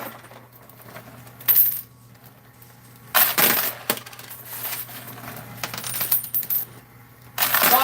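Coins spilling and clinking inside an arcade coin pusher machine, several loud bursts of metallic cascading against a steady electrical hum, with quieter rattles between the drops.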